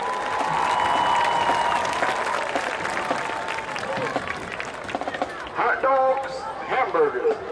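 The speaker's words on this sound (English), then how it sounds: "Please give them a great round of applause." Crowd in the stands at a high school football game between Bacon County and Berrien County gives broad applause and cheers, with a voice calling out near the end and some band or horn tones as it thins.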